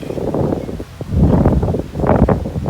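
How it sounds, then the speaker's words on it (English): Wind gusting outdoors beside Lake Ullswater at a holiday park in June, a steady loud rumbling roar that swells and dips in waves, with rustling underneath and no talk. "The wind's getting up again as we walk back."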